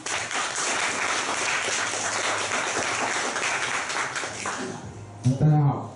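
An indoor audience at a small Taichung self-introduction gathering claps steadily to welcome the next speaker. The dense applause runs for about five seconds before tapering off, and a voice briefly speaks near the end.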